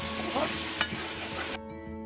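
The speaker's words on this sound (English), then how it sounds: "In that same pan, add a bit more oil and cook the onions for about 3 to 4 minutes until they are nearly translucent." Onions sizzle steadily in hot oil in a skillet, a continuous close frying hiss with a brief stir near the middle before the sound cuts off abruptly.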